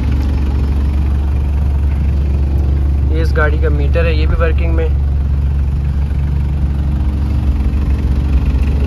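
A restored 1983 Toyota Land Cruiser FJ40 sits with its engine idling in a steady, close, low drone throughout, while someone talks briefly over it.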